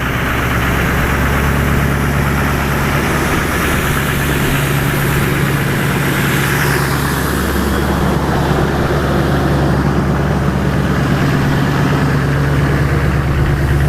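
An LBZ Duramax diesel truck engine holds a steady high idle outdoors on a cold day of about 35 degrees, a loud, continuous low drone with constant vibration and no break throughout.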